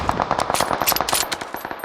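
Dense automatic gunfire in the mobile battle royale game PUBG Mobile, rapid loud bursts of shots firing continuously for the short stretch with no pauses.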